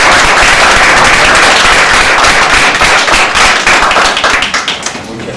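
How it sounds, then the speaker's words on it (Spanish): Loud, dense applause from a lecture audience welcoming an engineer, a continuous burst of clapping that holds steady for several seconds before thinning toward the end. "Un fuerte aplauso para el ingeniero Barrera."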